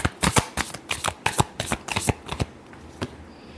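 Tarot cards being shuffled by hand during a love reading, a quick run of crisp riffling snaps and slaps, close and fairly loud, easing off to a few sparse flicks near the end.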